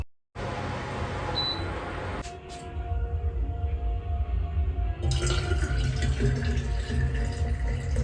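Hot water pours into a flask at close range, a rushing, gurgling fill that grows louder and fuller in the second half after a quieter start.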